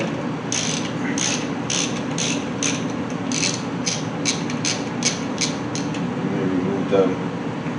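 Ratcheting wrench clicks in quick bursts while a pedal is taken off an Echelon exercise bike, the metallic ticks close and steady over a low room hum.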